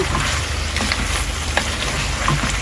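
Oil sizzles and crackles loudly in a pan of beef cooking with raw papaya, a dense, continuous frying hiss with small pops scattered throughout and no voices.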